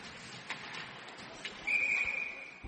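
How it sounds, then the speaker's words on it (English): A referee's whistle stopping play at a boys' high school ice hockey game in an arena, one sharp steady blast of about a second rising over faint crowd murmur and scattered thuds. "We had a whistle stopping play."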